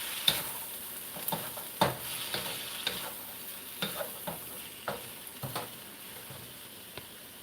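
Seasoned vegetables for a vegan egg roll bowl, dusted with onion and garlic powder, are tossed and stirred in a hot pan, giving a soft steady sizzle broken by scattered scraping clicks and taps.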